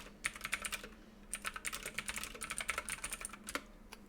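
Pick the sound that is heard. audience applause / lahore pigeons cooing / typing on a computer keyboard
typing on a computer keyboard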